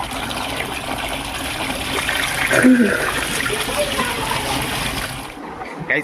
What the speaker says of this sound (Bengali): ঠান্ডা ঠান্ডা জলে স্নান করে মজা চলে আসছে আরেক বালতি ডালি